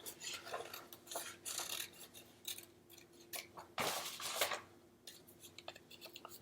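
Scissors cutting a paper circle, close snipping strokes and rustling paper in irregular bursts, with one louder crunching cut partway through.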